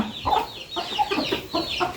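Chickens clucking close by in quick, repeated bursts as they are fed rice, a busy continuous flock chatter with no talking.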